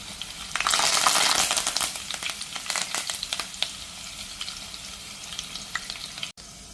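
Crushed garlic cloves and curry leaves hit hot oil for Kolhapuri katachi amti. A loud burst of spluttering sizzle settles into a steadier crackling fry with scattered pops, close by and without speech.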